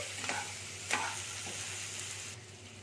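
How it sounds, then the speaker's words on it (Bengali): Soft sizzling of potato, onion and tomato frying in a pan, with a few scraping stirs of a spoon. The sound is faint and close against a low background hum. "পেঁয়াজ আলু টমেটোর সাথে আমি ভেজে নিচ্ছি"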